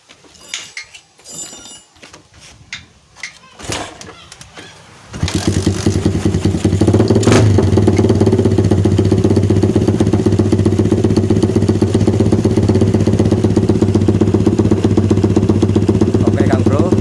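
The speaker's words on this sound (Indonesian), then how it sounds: "untuk mesin sudah menyala ya, saya matikan" A Suzuki Satria FU motorcycle, just fitted with a spark plug after a no-start fault, gives a few clicks and cranking attempts before its engine catches at about five seconds and runs on with a loud, steady, rapid idle.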